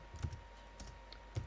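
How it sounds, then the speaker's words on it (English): Computer keyboard typing while code is entered, a few sparse keystrokes scattered across a short, quiet stretch with no talking. "type code"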